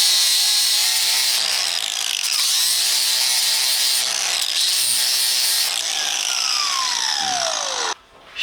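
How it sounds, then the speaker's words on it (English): An angle grinder working down a metal car part, a loud continuous whine with shifting tone as it bites and eases off the workpiece, finally spinning down with a falling pitch before cutting out. "I'm going to take the grinder and just grind this down just a little bit."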